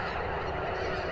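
A big flock of geese honks in a dense, continuous chorus, many overlapping calls blending into one loud wash.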